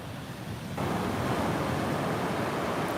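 Ocean waves wash up on a beach in a loud, broad roar of surf that swells and holds steady, close and continuous with no voices.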